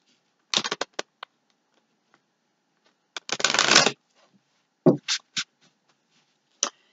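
Tarot cards being shuffled in short riffling bursts, with a longer continuous riffle in the middle and a few separate snaps and taps, close and clear with no talking.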